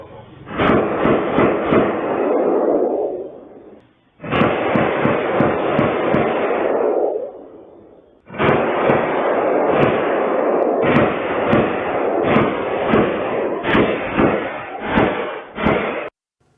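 Three long bursts of rapid, rattling automatic gunfire from a military-grade gun fired at a house, each lasting several seconds, separated by short pauses. Loud but muffled.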